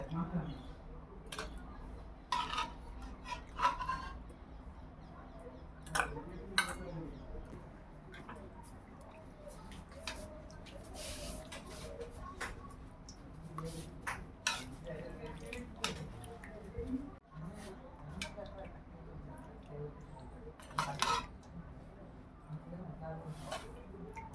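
Meat curry and potatoes are ladled onto plates in a village kitchen, with soft wet squishes, spoon taps and drips scattered throughout while people talk over it.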